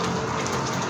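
Heavy rain pours down in a steady, dense roar, loud and constant throughout with no voices.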